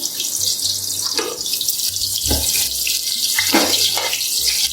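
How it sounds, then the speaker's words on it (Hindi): Two onions go into hot oil for a chicken pulao, setting off a loud, steady sizzle that holds throughout, with a few low clunks from the pan, close by and without talk. "ऑयल गर्म हो चुका है। यहाँ पर प्याज लिए मैंने 2 अदद, तो ये से डाल देंगे।"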